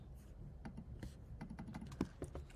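Soft, quick keystrokes on a computer keyboard form a short burst of typing, quiet and close, with a faint background hiss.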